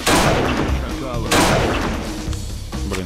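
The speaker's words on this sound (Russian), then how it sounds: "два выстрела снайпера надо в него" Two loud, sharp sniper rifle shots in the video game XIII Classic, about a second apart, each with a booming tail, followed by fainter clatter and quieter thumps.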